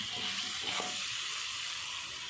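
Ruby fish fries in a pan with a steady, soft sizzle as kaffir lime leaves are scattered in and the fish is flipped over, with a faint scrape partway through.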